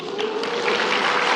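A church congregation claps during a sermon, a steady wash of applause that swells slightly toward the end, heard indoors and fairly close.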